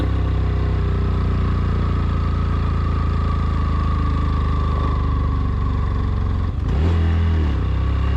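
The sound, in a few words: motorcycle engine straining uphill in low gear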